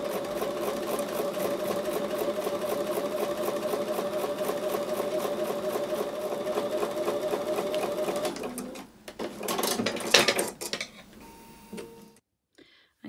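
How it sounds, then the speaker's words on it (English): Close, steady sewing machine stitching a quarter-inch seam on a diamond square quilt block, a fast even mechanical chatter that runs for several seconds, then slows into a few short bursts and handling sounds before falling quiet. "sew a 1/4 inch seam on both sides of the drawn line"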